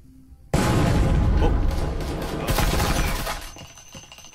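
A grenade goes off in the VR shooter Breachers, a sudden loud blast that swells and rumbles for a few seconds before fading, with a second burst of debris-like noise midway.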